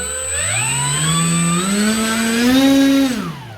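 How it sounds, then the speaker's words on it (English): An FMS PA-18 Super Cub RC plane's electric motor and propeller spin up close by, a smooth whining tone climbing in pitch, holding at partial throttle, then cutting off and winding down. "now let me give it a little bit of power"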